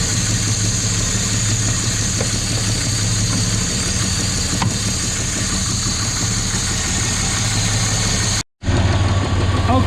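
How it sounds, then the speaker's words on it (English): A car engine idles steadily at close range while its carburetors are balanced, a constant low rumbling drone with a brief dropout near the end and no talking over it. "I can't show you carb tuning without the engine running."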